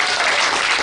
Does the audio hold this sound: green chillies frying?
no